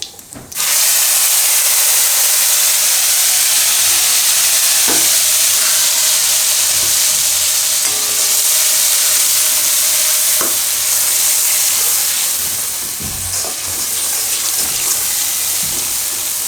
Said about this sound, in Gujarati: થોડીક આપણે એમાં હિંગ નાખીશું અને આ ગ્રેવી નાખી દેવું